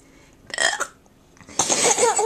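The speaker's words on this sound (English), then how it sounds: "I don't know why Mummy's got hiccups." A woman has the hiccups, giving two abrupt, close-up hiccups about a second apart, each a short voiced jolt of breath.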